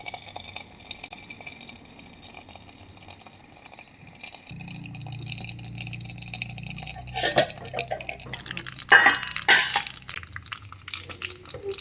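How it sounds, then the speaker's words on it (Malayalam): Mustard seeds and curry leaves crackle and spit in hot oil in a home kitchen while cooking a simple lunch, a burst of sharp popping and sputtering rising in the latter half after a quieter stretch with a low hum. "കറിവേപ്പില ഇട്ടാൽ അതിങ്ങനെ പൊട്ടിത്തെറിക്കാതിരിക്കുക"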